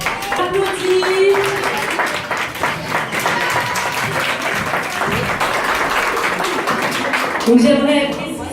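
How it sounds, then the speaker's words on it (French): Audience at a Miss Belle Kabylie beauty pageant breaks into loud, dense applause that holds steady for several seconds, with a voice speaking over the start and end of the clapping. "On applaudit"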